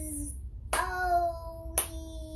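Two soft hand claps, spaced about a second apart, beat out the syllables of a word as a voice draws the word out in a quiet classroom.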